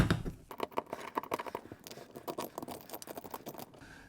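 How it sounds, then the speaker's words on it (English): A blade works at a 3D-printed plastic lightsaber part, cutting out a hole with a rapid, uneven series of close scratchy scrapes and crackles lasting several seconds. "So I have to cut that out first of all,"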